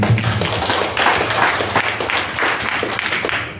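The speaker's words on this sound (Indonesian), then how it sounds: "mari kita berikan tepuk tangan" Church congregation at a Sunday service giving a round of applause, a steady wash of many hands clapping at moderate distance for a few seconds.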